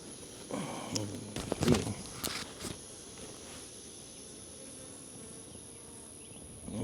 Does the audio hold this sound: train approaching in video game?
no